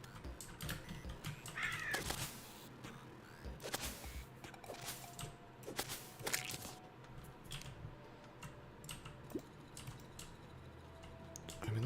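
Several crow caws used as the hit sound effect in Terraria ring out over quiet game audio, sharp bursts mixed among clicking keyboard-like taps.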